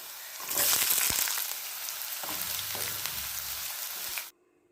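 Onions frying in hot oil with curry leaves and green chillies, a loud close crackling sizzle that swells early, then settles into a steady hiss with stirring knocks before cutting off abruptly.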